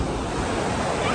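Sea waves wash in a broad, steady roar of surf at the shore, loud and close, with a touch of wind buffeting the microphone.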